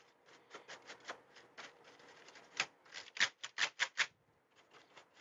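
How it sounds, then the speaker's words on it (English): Quiet, rapid scratchy brushing and light clattering as an old paintbrush dry-brushes dirt off a Commodore 128 keyboard, irregular strokes with a few louder bursts, close up with no talking. "I'm just going to dry brush it with this old paintbrush here"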